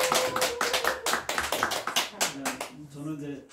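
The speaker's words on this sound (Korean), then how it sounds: "다시 한번 뜨거운 박수." Audience clapping at a Korean lecture on YouTube marketing, a run of sharp hand claps in bursts that fades out near the end, with a voice speaking over part of it.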